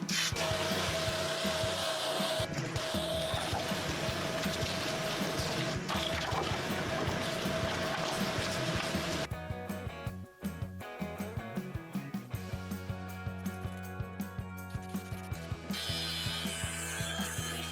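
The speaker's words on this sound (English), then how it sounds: "To prepare the underside of the hood for painting, it is scrubbed and ground to clean it." Scrubbing and grinding the underside of a Chevrolet C10 truck hood during a V8 rebuild, a continuous harsh abrasive whir and scraping that shifts to a choppier, stop-start grinding with tonal motor hum.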